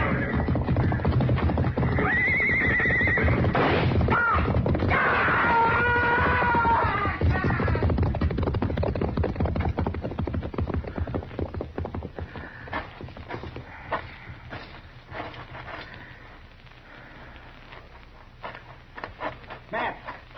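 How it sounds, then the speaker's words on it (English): A horse whinnies loudly several times near a burning hayrick, followed by a run of hoofbeats clattering past amid other commotion. "he's trying to ride a horse out"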